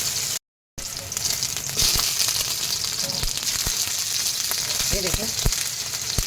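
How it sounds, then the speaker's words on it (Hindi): Tomatoes sizzle steadily in a hot pan while being cooked down for a spicy momos chutney, a broad crackling hiss broken by a brief dropout near the start, with a few short spoken words over it. "इस तरह से मैंने इसमें टमाटर डाल दिया है"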